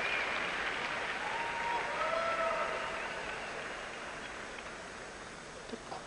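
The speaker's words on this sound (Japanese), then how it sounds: "ここはすごく観衆の拍手を誘ったところです。" Arena crowd applauding during an ice dance free dance at the 2002 Olympics, a steady wash of clapping that swells early and then gradually fades.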